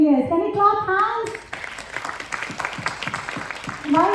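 A school audience applauding, with steady mid-level hand clapping running for a few seconds between a speaker's voice at the start and end.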